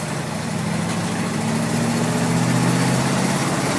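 A 1973 Ford F100 pickup truck engine under way on the road, a steady loud low drone with a sustained tone that rises slightly in pitch and holds, alone without voices.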